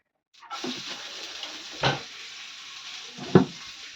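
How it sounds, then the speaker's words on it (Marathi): Onion dropped into hot oil with mustard seeds, a sudden crackling sizzle that starts abruptly and keeps spluttering, with louder pops and bursts at intervals, close and steady with no talk. "आता कांदा घाल फुटते हो ग तसंच फुटतं ते"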